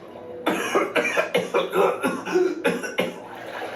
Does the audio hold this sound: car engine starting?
no